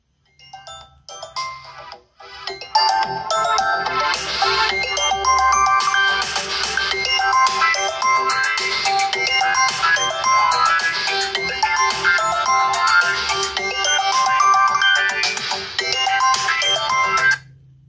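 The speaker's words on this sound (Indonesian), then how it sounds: "untuk nada dering WA HP Vivo Y19s saya sebelum diubah nada deringnya seperti ini" The stock WhatsApp ringtone on a Vivo Y19s phone plays as a bright, busy chiming melody, loud and continuous for most of the span after a brief quiet start, with no talking.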